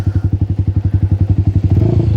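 A Yamaha Xabre motorcycle engine pulses loudly and steadily as the throttle opens, its rhythmic low thumping quickening slightly toward the end while riding.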